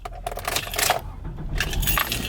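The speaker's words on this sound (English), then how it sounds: "Yo, I keep dropping my keys." Keys dropped during an outing to a liquor store give a brief metallic jingle and clatter, heard close over steady background noise and traffic-like rumble.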